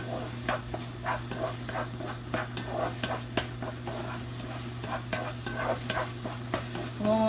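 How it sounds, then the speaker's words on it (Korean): Mushrooms and burdock stir-fried over high heat, a continuous sizzle broken by regular scraping strokes of a utensil against the pan, close and fairly loud, with a low steady hum beneath. "지금 센 불에 볶고 있는데"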